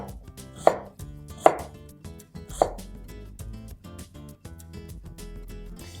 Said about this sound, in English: Slice it so that the pieces are a little bit bigger.